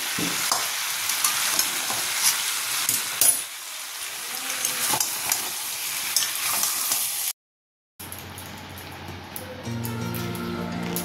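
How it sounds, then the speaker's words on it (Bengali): Curry cooking in a pan on a home stove gives a steady sizzling, stirring hiss for about seven seconds, then a brief silence before quieter kitchen noise with a low hum returns. "এই যে রাতের তরকারিটা বসিয়েছি"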